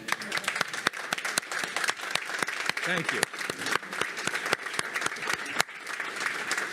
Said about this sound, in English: this round of applause from us is for all of you